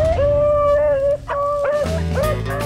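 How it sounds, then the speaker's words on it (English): A pack of hunting hounds bays and yelps while trailing a hare across open country, with overlapping long drawn howls and sharp cries close by, loud and continuous with no talk. "And soon the dogs are on the scent of hare number 3."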